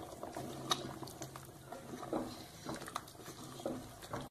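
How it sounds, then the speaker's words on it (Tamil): Chicken gravy with ground coconut coming to a boil in a pot, soft bubbling and patter with small pops, quiet and close, no voices. "ஒரு கொதி வந்துருச்சு"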